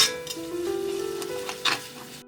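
Turmeric powder being stirred into hot oil with ginger and garlic, giving a short, even sizzle with a spoon scraping the pan and a brief louder stir near the end.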